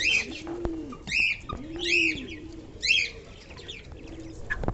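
Pigeons cooing in a loft, with repeated low soft coos close by and brighter chirps and flutters between them. Several birds are calling.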